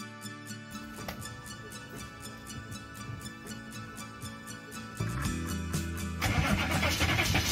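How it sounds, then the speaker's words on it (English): A van engine cranks in a rapid rhythmic chug for several seconds, catches and fires, then settles into a louder idle with a brief rev, heard close and with no talking. Fresh transmission fluid has just been added. "then I'm gonna crank her up and see if we have pressure."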